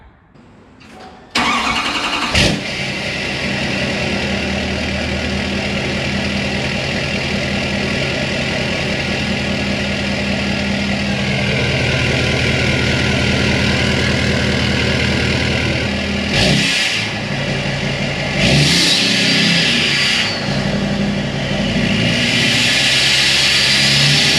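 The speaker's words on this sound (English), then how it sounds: "Now here is this with the 5-inch exhaust, straight pipe." A 2020–2025 L5P Duramax diesel truck engine with a 5-inch straight-pipe exhaust cranks and fires up, then idles with a loud, rough, unmuffled rumble, revving up a few times.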